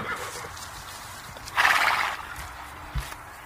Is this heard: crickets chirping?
no